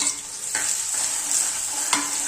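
Two medium onions, finely chopped, fry with whole coriander seeds in a pan for Punjabi-style sarson ka saag. A steady, close sizzle runs throughout, broken by a few sharp scrapes of the spoon as they are stirred.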